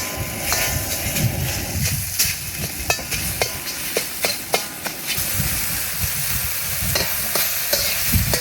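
Beef stir-fries in hot oil in a wok outdoors for beef chow fun, with a loud, steady sizzle throughout and sharp metallic clacks of the spatula striking the pan at irregular intervals.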